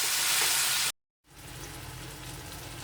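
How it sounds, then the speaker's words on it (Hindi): Chopped tomato simmers with a little water in a pan while being stirred, for a Bihari potato curry. It gives a steady, soft sizzle that cuts out briefly to silence, then resumes quieter and continuous. "और हल्का सा पानी, और इस तरह से मिलाते हुए इस टमाटर को अच्छे से पका लेंगे।"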